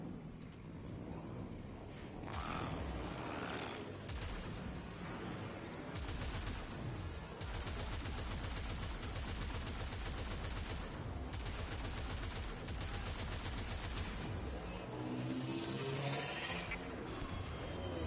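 Sustained gunfire and rapid bursts from the video game Warframe, loud and dense throughout, layered with mechanical clanks and a busy game mix, with no voices.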